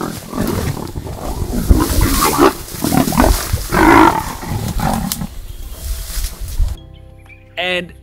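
Leopards fighting in dense bush, a rough stretch of snarls, growls and roars that rise and fall for several seconds, ending in a short pause and a final sharp yowl.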